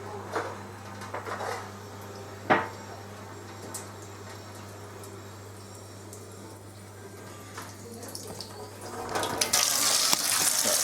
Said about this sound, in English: I'm filling the sink up with water